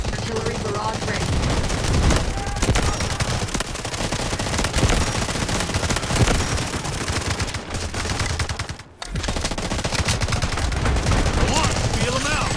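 Bizon submachine gun from the game Delta Force Mobile firing almost nonstop in loud, dense bursts, mixed with other battle noise, with one brief pause near the end.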